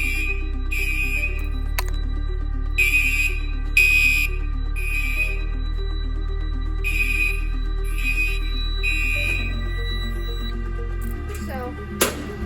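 Two-wire smoke detector sounding during a basement fire alarm system test, repeated high beeping pulses in a steady rhythm over a constant low hum, with a voice speaking faintly in the background.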